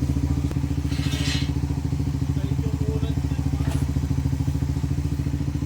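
A Suzuki Raider FI motorcycle with a noisy clutch housing idles and revs close by, its engine pulsing in a steady rapid rhythm. Brief clatters and thumps sound over it.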